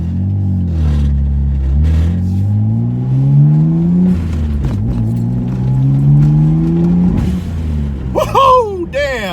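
Mitsubishi Galant VR4 running on E85 fuel, accelerating through several rising engine pulls with gear changes in between, loud and close from inside the car, and a voice cuts in near the end.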